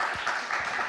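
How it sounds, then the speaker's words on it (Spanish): An office group applauds a colleague, a dense burst of close clapping that fills the short moment. "Un aplauso para ella"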